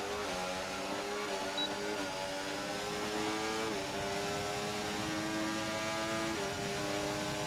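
Formula 1 cars race in the F1 24 video game on the final lap at Austria, a continuous loud engine whine rising and falling with gear shifts, no talking.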